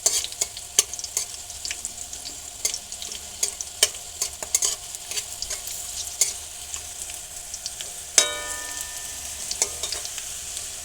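Bay leaf and garam masala sizzling in hot frying oil left from fried potatoes, a steady close crackle with scattered pops and stirring scrapes, then a sharper burst of hissing partway through, with no talking.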